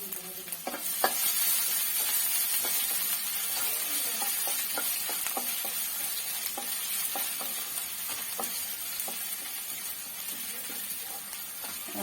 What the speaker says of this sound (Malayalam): ഇഞ്ചിയും വെളുത്തുള്ളിയും ചതച്ചത് ഇട്ടു.